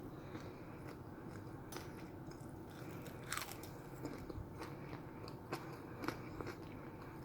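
Crisp air-fried shrimp bitten and chewed up close, several separate crunchy snaps spread across the stretch amid soft mouth noises, no talking.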